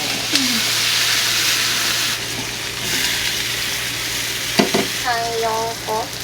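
Meat and green onions frying in a pan, a steady broad sizzle that swells and eases as the food is stirred, with brief clinks and a few short clattering sounds near the end.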